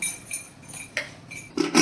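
A metal lid is set onto a pressure cooker in a home kitchen, giving a few sharp clinks and clatters, the last two louder and close.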